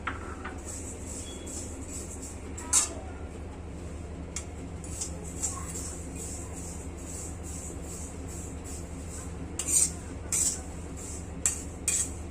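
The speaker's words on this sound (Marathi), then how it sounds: "आता ही खुरासणी एका लोखंडाच्या कढईमध्ये भाजून घेते" Niger seeds (khurasni) dry-roasting in an iron wok: a steady low rustle with a few sharp metallic clinks of the stirring spoon against the pan, mostly quiet and without talk.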